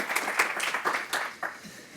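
Applause from an audience in a room welcoming New York City Comptroller Brad Lander to the stage: steady clapping with a few sharper bursts, at moderate level throughout.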